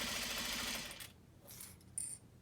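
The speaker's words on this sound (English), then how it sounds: "We're gonna sew from the edge 1/4 of an inch." A sewing machine stitches fabric binding a quarter inch from the edge, with a steady loud mechanical whir for about a second, then quieter intermittent clicks and a brief rattle as it slows.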